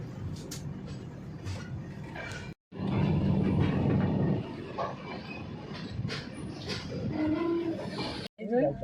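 A train rolls along between Unjha and Sidhpur stations with a low rumbling drone and clatter, rising and falling in loudness, with two brief breaks in the sound.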